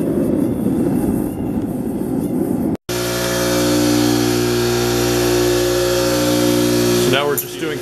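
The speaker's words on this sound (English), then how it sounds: "So now we're just doing the rough grind knife." An angle grinder rough-grinds a hand-forged steel spear, a loud steady high whine with gritty abrasive noise that cuts out briefly and restarts, then tails off at the end.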